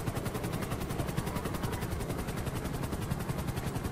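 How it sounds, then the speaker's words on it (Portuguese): A helicopter in the GTA V racing game flies steadily with a dense, continuous rotor drone and rapid blade chop. The sound stays loud and close throughout, with no voices. "por que que meu helicóptero virou sozinho pra esquerda?"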